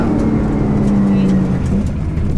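Tuned Nissan GT-R cars, including an R35 and an R34, roar steadily across a race finish line, a loud sustained engine drone with a slight pitch shift as they pass.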